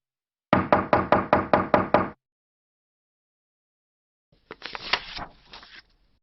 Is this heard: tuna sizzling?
no